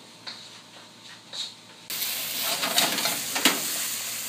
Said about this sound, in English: So this has been sauteing